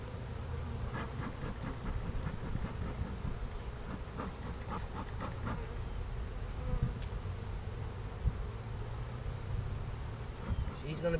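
A small swarm of bees buzzes near a two-frame hive box in a steady, close drone, with scattered light knocks and handling sounds on top.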